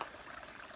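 Water of a river rushing past at a dangerous crossing on a mountain trail, a steady broadband wash of flow heard up close, continuous and fairly quiet with no voices.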